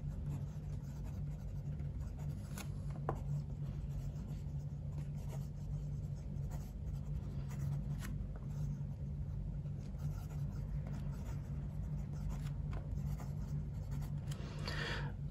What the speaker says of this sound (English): Let's do the writing sample.